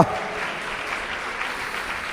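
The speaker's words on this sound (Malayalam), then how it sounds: "സന്തോഷത്തോടെ കൈയടിച്ച് സ്തോത്രം പറഞ്ഞു." A church congregation at a fasting prayer session claps joyfully, a dense, steady wash of many hands close by that holds evenly throughout, with faint voices mixed in beneath.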